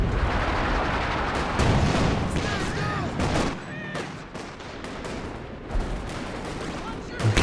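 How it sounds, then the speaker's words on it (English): Artillery counter barrage in Company of Heroes 2 aimed at a mortar position: dense, continuous volleys of booming shots and crackling impacts, loud and close, with a brief lull midway before the firing picks up again. "Counter barrage now on the mortar"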